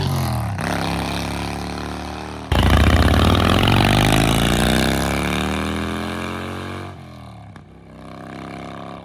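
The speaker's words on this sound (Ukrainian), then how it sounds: "Буду їхати і так буде класно розвиватися по дорозі." A Harley-Davidson motorcycle engine rumbles at idle, then roars up loudly through rising revs as the bike pulls away, easing back down toward the end, close and dominant with no talking.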